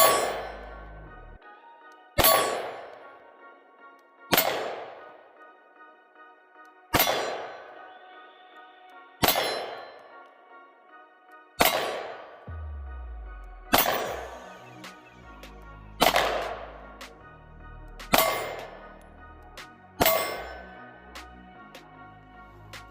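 An HK CC9 micro compact 9mm pistol fires about ten spaced shots at an outdoor range, each a sharp loud crack ringing off with a metallic tail, spaced roughly two seconds apart.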